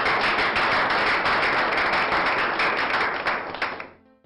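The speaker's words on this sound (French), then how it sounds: "Applaudissez une fois de plus pour encore." Audience applause at a ceremony honouring young women, dense steady clapping from a crowd that holds loud for several seconds, then thins and fades out near the end.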